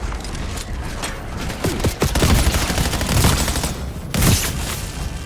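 Gunfire in the Black Ops 7 co-op campaign during a fight at a barge: dense, overlapping bursts of shots and booming impacts rolling on steadily, loud and close throughout.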